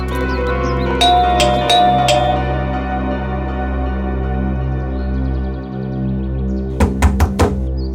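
Knocking on a door in a TV crime drama: a few sharp raps early on, then a quick cluster of knocks near the end, all under a loud sustained dramatic music score.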